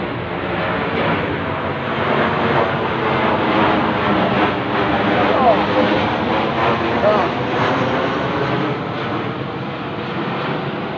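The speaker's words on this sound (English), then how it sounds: "I can't show those planes coming right over my head." Airplanes flying low overhead amid heavy traffic at night: a steady, loud, broad engine roar fills the whole stretch without pause, with no distinct separate events.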